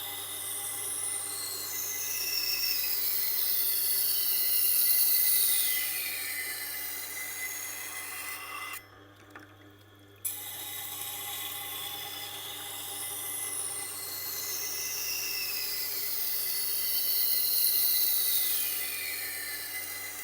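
A Wüsthof knife is drawn across a Tormek sharpening wheel, likely a CBN wheel, over a steady low motor hum. Gritty sweeping strokes repeat, then stop briefly midway before resuming. Nobody speaks.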